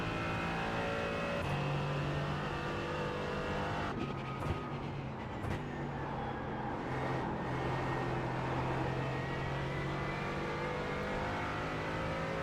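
Sports car in the iRacing sim on the Nürburgring, a continuous engine drone with shifts in pitch as it revs and changes gear, plus a few sharp clicks partway through, steady and without talk.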